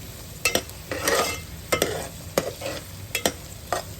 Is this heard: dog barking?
no